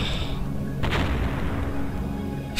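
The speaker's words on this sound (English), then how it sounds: "How come I exploded into like six propellers?" An explosion in the submarine video game Sub Culture sounds as a sharp boom partway through, followed by rumbling game noise, with another sudden burst at the very end.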